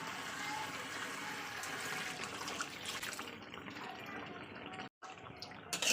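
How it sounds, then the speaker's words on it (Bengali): Hot water is poured into a cooking pan, a steady rushing splash for about three seconds that thins out, briefly cuts off, then returns with a little more splashing. "এবার আমি এতে গরম জল দিয়ে দেবো"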